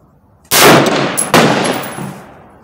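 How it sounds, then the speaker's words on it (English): An LFA precision rifle fired off the handguard at an outdoor target range gives a loud, sharp report, then a second blast-like burst, with a ringing tail and metallic ping fading over a second. "third shot and the last shot at the left upper target"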